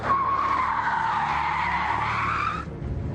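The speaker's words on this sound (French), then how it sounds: "je pile, je fais marche arrière et demi-tour" An armored Peugeot 605, about 600 kg heavier than standard, brakes hard and turns, its tires squealing loudly in a long sustained screech that cuts off abruptly near the end, with engine rumble beneath.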